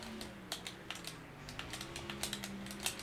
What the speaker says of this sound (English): you could probably hear the clacking of the controller